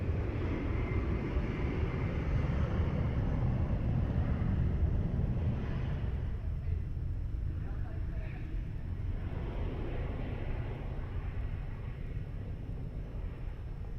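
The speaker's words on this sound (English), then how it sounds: "Embraer 195 is rolling" An Embraer 195 airliner rolls for takeoff at Lisbon Airport, a steady broad low roar of jet engines heard from a distance with wind noise, holding loud throughout and easing slightly toward the end.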